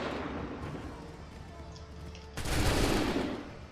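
A musket volley fires in the Assassin's Creed 3 Battle of Bunker Hill, a sudden loud crackling burst of massed gunfire after a stretch of quieter battlefield rumble.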